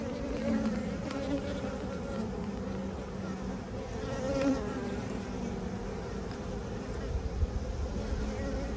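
Honey bees buzz steadily on a hive frame during a colony inspection, a close, continuous hum with small swells as individual bees move past, and no talking.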